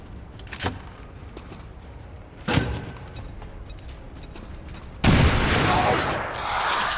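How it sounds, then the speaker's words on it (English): A grenade explosion in the video game XCOM 2: War of the Chosen hits as a sudden, loud, broad blast late in the clip and rumbles on afterward, following a smaller thud earlier amid quiet background sounds. "after the grenade here it should be easier. Bombs away!"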